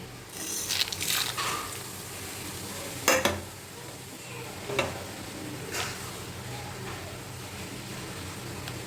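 Whole spices (pepper, a small cinnamon piece, cloves, two cardamom pods, cashews and a bay leaf) are dry-roasted in a pan. A faint, steady sizzle carries a few sharp scrapes and clinks of a spoon against the pan.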